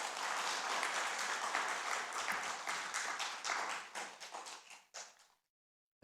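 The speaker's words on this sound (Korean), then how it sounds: "우리 서로를 위해서 박수 한번 칩시다." A church congregation at a Sunday morning service applauds together, a full, steady clapping that thins to scattered claps and stops abruptly into silence.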